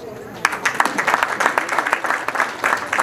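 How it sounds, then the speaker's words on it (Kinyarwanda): A wedding reception audience applauds in a dense, steady burst of clapping, and voices carry along beneath it. "banza bagukomera amashyi"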